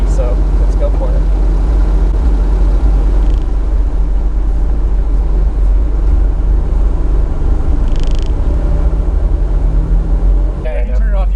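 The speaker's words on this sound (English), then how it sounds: "The engine sounds the same as the van, but since it's lighter, it's going to be a lot more peppy." A Honda Beat kei car engine hums steadily from inside the cabin while driving, a constant low drone with people talking over it.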